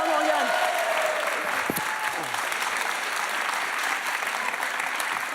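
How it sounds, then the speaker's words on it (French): A TV studio audience on a French late-night talk show applauds guest Clara Morgan, sustained even clapping throughout with a brief whoosh and voice-like sounds early on. "applaudit encore très fort."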